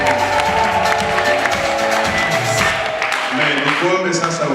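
A church congregation at a conference opening claps and cheers loudly for several seconds while a voice speaks over the crowd.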